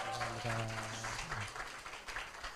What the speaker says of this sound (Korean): 오늘 강의해 주신 우리 박 목사님께 다시 한번 큰 박수 부탁드리겠습니다.